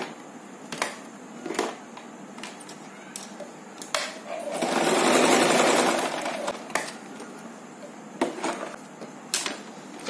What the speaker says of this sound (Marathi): इथे पण आपण याला डबल स्टिच करतोय.